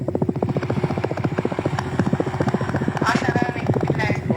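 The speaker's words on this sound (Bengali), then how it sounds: "আপনারা বলেন না কেন ফ্যানের বাতাস যে হেলিকপ্টারের মতো গভীর শো করে যে?" A ceiling fan whirs with a fast, rhythmic thumping chop, like a helicopter's blades, steady and close throughout.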